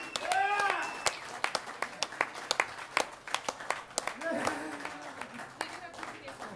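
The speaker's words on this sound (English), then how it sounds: "We want a loud round of applause for this man." Comedy club audience applauding a comedian as he is introduced, scattered sharp claps under an announcer's amplified voice, the clapping thinning as talk continues.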